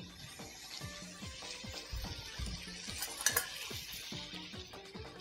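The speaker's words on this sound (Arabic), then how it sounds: "يقلب الفلفل شويه كده" Peppers are stirred in a hot pan, with a soft, continuous sizzle and the scrape and occasional light clink of a utensil against the pan, close by and without talk.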